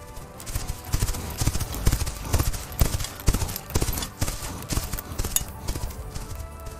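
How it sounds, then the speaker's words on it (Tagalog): Horses run along a road, their hooves clip-clopping in a quick, steady rhythm with loud, close, uneven hoof strikes throughout. "Pinapatakbo nila noon ang kanilang mga kabayo"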